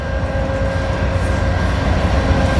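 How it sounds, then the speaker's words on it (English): A Union Pacific freight train passes by a busy train yard, a loud, steady rolling rumble with rail clatter heard close and continuous throughout. "Got a Union Pacific going by."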